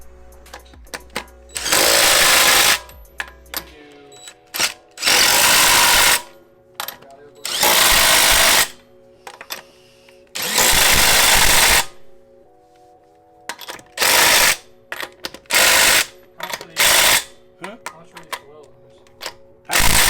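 Bursts of an impact wrench or power drill run the lug nuts back on as wheels go onto a DC2 Integra after a coilover install, several loud whirring runs of a couple of seconds each, separated by pauses with clanks and people talking.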